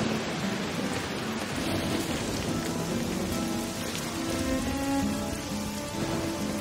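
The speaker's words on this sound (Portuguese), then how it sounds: "Até que, num de repente, começou uma chuva doida" A sudden, heavy downpour of rain, a dense and steady roar of drops hammering surfaces, loud and unbroken throughout with no voices.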